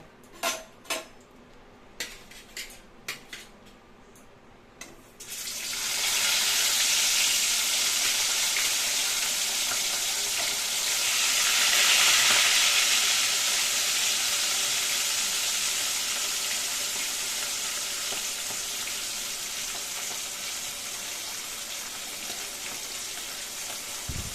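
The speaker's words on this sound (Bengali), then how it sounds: "তেলটা গরম হয়ে গেছে, এবার মাছগুলো আমি হালকা করে ভেজে নেব।" Hilsa fish going into hot mustard oil in a wok: a few light clinks, then a sudden loud, dense sizzle that swells and holds steady for a long stretch, close up, with no talking.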